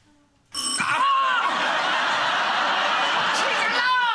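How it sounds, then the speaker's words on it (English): A doorbell rings with bright chiming tones, followed by a burst of voices and laughter, and the chime rings again near the end. "That's the doorbell"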